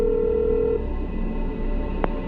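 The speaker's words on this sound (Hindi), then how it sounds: "देव हॉल में रखा फोन उठाता है और शिल्पा का नंबर डायल करता है" Telephone number dialed on a hall phone in a Hindi horror audio drama: a single steady dialing tone up front, then a low hum with a brief click near the end, no voices.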